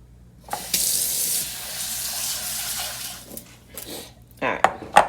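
Tap water running into a bowl as bulgur wheat is rinsed for Haitian porridge, a strong rushing stream that fades into swishing and clinks of the bowl and grains.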